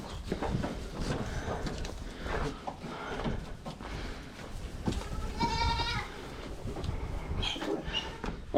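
Goats on a ranch bleat several times at close range during hay feeding outdoors, the calls standing out over rustling and shuffling movement.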